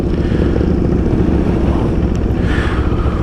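A CF Moto 650NK motorcycle engine running close by, a loud, dense, steady rumble that holds unbroken throughout.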